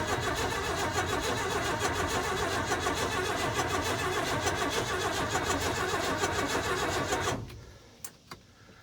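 The engine of a 1988 Ford F-150 Custom pickup cranks over loudly and continuously for about seven seconds, then cuts off, leaving a quiet pause broken by a couple of faint clicks.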